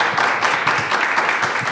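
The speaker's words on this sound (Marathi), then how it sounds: "जोरदार टाळ्या." Dense, loud applause from a studio audience at a Marathi talk show, many hands clapping together in a steady wash with no voices over it.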